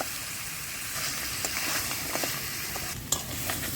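Crab curry is stir-fried in a pan, giving a steady sizzling hiss broken by soft scrapes of a spoon and one sharper clatter near the close.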